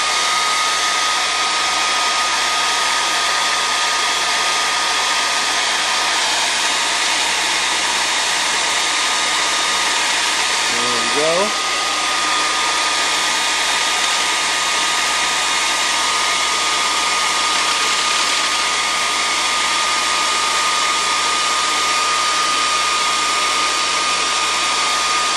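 A hair dryer blows steadily on glued wire fingers of a foam puppet hand, a loud constant whooshing whine held close for the whole stretch with only a brief dip midway.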